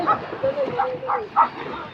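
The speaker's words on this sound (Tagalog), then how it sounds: "Unang nagingay na aso. Aso ko yun ah. Ayun oh, nag-iingay oh." A dog barks several times in short, yelping bursts at moderate distance, with outdoor ambience underneath.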